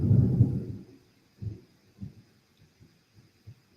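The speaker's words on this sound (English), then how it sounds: "Did you hear that? That was thunder." A low, deep rumble of thunder that fades, followed by a few softer distant low thuds trailing off, with no talking.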